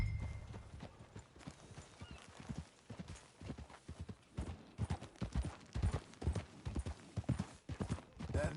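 Horse hooves clip-clop in steady rhythm in Red Dead Redemption 2, close and clear, with a neigh and light speech-like sounds in the background.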